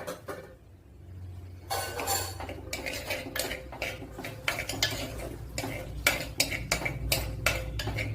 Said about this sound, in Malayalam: ഇവിടെ ഒരു ചട്ടി വെച്ച് കൊടുത്തിട്ടുണ്ട് അതിലേക്ക് മൂന്നാലല്ലി വെളുത്തുള്ളി ചെറിയ പീസ് ഇഞ്ചി ഒരു പച്ചമുളക് ഇത്രയൊന്ന് വഴറ്റിയെടുക്കാം